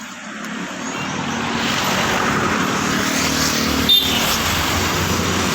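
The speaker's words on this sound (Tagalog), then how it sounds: "Dito tayo ngayon sa highway." Vehicles passing on a highway, a steady broad roar of traffic that grows a little louder after the first second and stays constant, with one brief sharp tick near the end.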